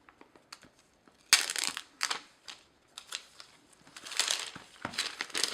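Plastic packaging around an iPhone XS Max is crinkled and crushed during unboxing, with a few faint ticks at first, then bursts of loud, close crackling and rustling that come and go.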